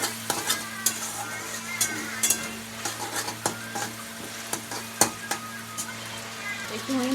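A spatula stirs sauce and Maggi masala into frying egg in a pan. Soft sizzling runs underneath while sharp scrapes and clicks against the pan come at an uneven, steady pace over a low hum.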